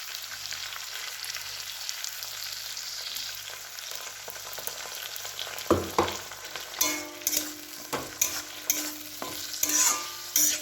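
Chili mushrooms sizzle and fry in a pan after ginger paste goes in. A quiet, steady sizzle runs throughout, and from the middle on a spatula scrapes and stirs in close, repeated strokes.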